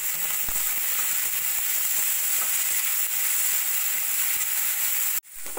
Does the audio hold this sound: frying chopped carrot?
yes